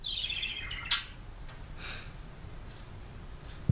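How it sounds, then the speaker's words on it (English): A pet bird indoors gives a short descending chirp followed by a few faint, scattered tweets, with a soft snort-like sound at the end against quiet room noise. "Listen to my bird chirping."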